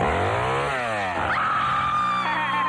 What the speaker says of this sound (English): Hey, Ernie, hand me that chainsaw, will you?